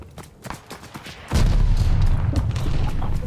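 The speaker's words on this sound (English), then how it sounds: "my guy just killed himself with a cannon bomb" A cannon bomb blows up in Call of Duty Vanguard: a sudden loud, close explosion that gives way to a sustained, heavy low rumble, following sparse scattered gunfire and thuds.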